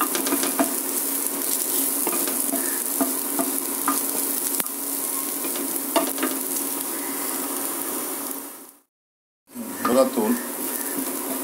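Ingredients for a spicy butter egg podimas sauté in a pan, a steady sizzle with scraping stirs, briefly cutting out before resuming, with a voice speaking over it.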